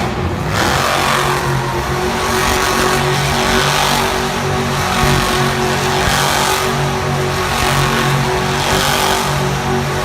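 Nitro Menace monster truck, driven at a Monster Jam style show in Lincoln, Nebraska, revs hard while spinning a donut, a loud sustained engine roar with pulsing surges and crowd-filled arena ambience.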